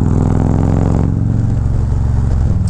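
A large Harley-Davidson motorcycle engine rumbles loud and close, a deep throbbing idle that shifts slightly in pitch partway through, with no talk over it.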